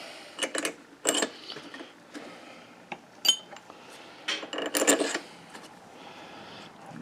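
Metal head bolts dropped into a Kohler Command V-twin engine and threaded in by hand, a series of close clinks, taps and short metallic rattles, with quiet handling noises between, no talking.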